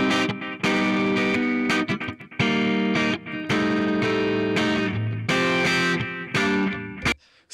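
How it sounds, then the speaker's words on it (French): Music run through a 1176 compressor's amplifier stage, adding gritty distortion and saturation to the high mids and highs, with loud sustained chords and short breaks between phrases, no voices. "Sentez la distorsion que ça rajoute dans les high mid, dans les high"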